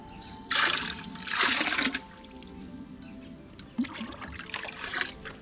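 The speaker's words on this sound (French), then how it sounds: "Donc je rajoute le gros sel." Coarse salt poured into koi pond water, giving two close, bright splashing pours followed by a softer trickle and fizzing of grains settling into the water.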